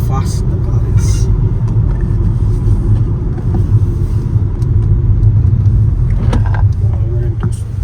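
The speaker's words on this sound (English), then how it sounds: "we're going to enter the highway and we're going to put the car into sport and test" Inside a 2023 Kia Seltos GTX+ 1.5 turbo petrol with a dual-clutch gearbox, sport mode is engaged while joining a highway. A steady, heavy engine and road rumble fills the cabin throughout.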